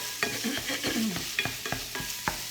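Tennessee Pride regular pork sausage browns in a pan, with a steady frying hiss and repeated scraping strokes of a utensil against the pan, close and moderately loud, with no voices.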